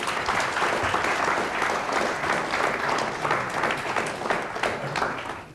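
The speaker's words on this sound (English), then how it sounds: "Let's have a big round of applause for them." Steady, full audience applause for a quiz team on a science quiz show, a dense wash of many hands clapping continuously at even strength throughout.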